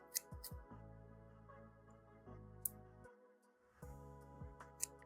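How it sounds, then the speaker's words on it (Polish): Quiet snips of scissors cutting a soft sheet face mask, a few separate cuts with clicks, close up over a faint steady hum. "dzięki temu, że mam nożyczki, zrobię sobie też nacięcie o tu"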